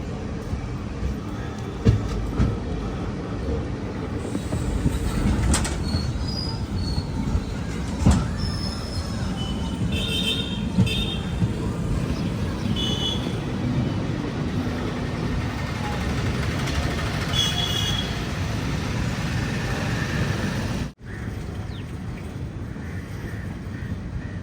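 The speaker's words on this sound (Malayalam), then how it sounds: "ട്രെയിൻ ഇതാ തൂത്തുക്കുടി റെയിൽവേ സ്റ്റേഷനിലേക്ക് എത്തിക്കൊണ്ടിരിക്കുകയാണ്" Palaruvi Express sleeper-class train pulling into Thoothukudi railway station after its run from Palakkad: a steady rumble and rattle of carriages runs continuously, with faint scattered clanks over the top, until it drops away sharply near the end.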